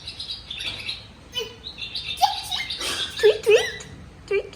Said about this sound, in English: This is a swallow.